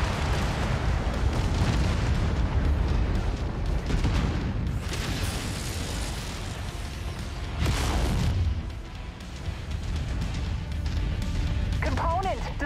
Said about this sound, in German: Brunson ist wohl explodiert, also ist explodiert